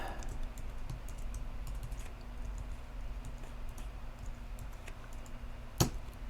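Quiet typing of a password on a Mac computer keyboard: scattered soft key clicks in short irregular bursts over a low room hum, ending with one sharper tap.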